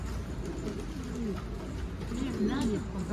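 Pigeons coo nearby in soft, low, rolling phrases that repeat throughout, over a constant outdoor background with faint voices.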